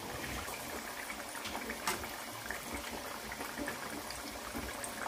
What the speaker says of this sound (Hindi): आधी मैंने फ्राई करने रखी है